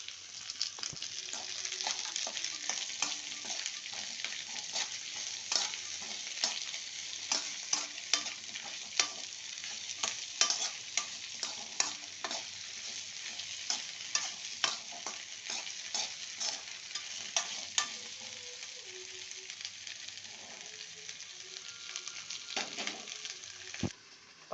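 Cut okra frying in a pan, stirred as it cooks: steady bubbling sizzle with frequent scraping and clicking stir strokes, close and fairly quiet, with no talking.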